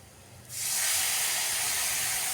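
Spiced paste hitting hot oil with fried onions for a rohu fish curry with potato and eggplant: after a quiet half second a loud, steady broadband sizzle bursts in and holds without letup.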